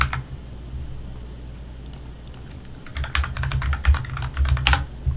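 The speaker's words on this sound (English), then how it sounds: "we're using a mechanical keyboard in case you can't hear it in there" Quiet background hum, then a burst of crisp mechanical keyboard typing with clacky, uneven keystrokes close by.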